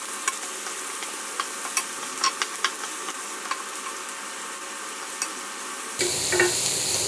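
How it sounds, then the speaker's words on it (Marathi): Finely chopped onions frying in oil, a continuous bright sizzle with scattered sharp crackles and occasional spatula scrapes, louder and busier in the last second. "आता हा कांदा जो आहे तो आपण छान असा गुलाबी रंगावर भाजून घेऊयात"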